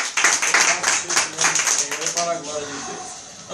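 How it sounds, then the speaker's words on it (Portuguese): A church congregation claps together during a worship service, a dense burst of handclaps that thins out after a few seconds while voices rise underneath. "dá uma salva de palmas para Jesus"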